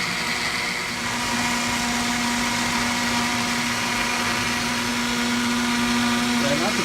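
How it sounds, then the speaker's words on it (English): A kitchen blender whirs steadily at full speed, blending a green smoothie of fruit, seeds and vegetables: a loud, continuous motor drone with a dense, churning roar that holds unbroken throughout. "So we got a couple of seconds of blending there"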